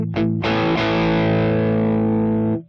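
Electric guitar in a crunchy, mildly distorted tone shaped in BOSS Tone Studio through a graphic EQ, slightly honky. A couple of quick picked attacks lead into one loud, sustained strummed chord that rings for about two seconds, then cuts off.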